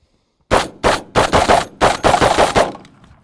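Rapid burst of about seven loud shotgun blasts from a semi-automatic 12 gauge, fired close in an uneven quick rhythm, each crack trailing into a short decay before the final shot fades out.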